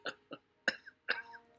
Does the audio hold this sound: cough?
yes